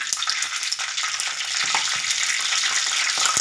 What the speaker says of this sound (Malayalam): അപ്പോൾ നമ്മുടെ കടുക് പൊട്ടി വന്നിട്ടുണ്ടല്ലേ?